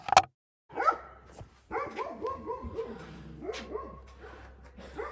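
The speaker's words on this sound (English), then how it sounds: "but all the dogs are barking." Several dogs bark and yip on a farm, a chorus of overlapping barks at moderate distance that runs steadily through the clip after an opening bang and a short silence.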